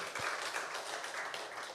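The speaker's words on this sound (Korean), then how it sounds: "우리 하나님께 영광의 박수 올려드리겠습니다" A church congregation clapping during a Sunday worship service, a continuous, fairly faint wash of applause with no speech over it, lasting under two seconds.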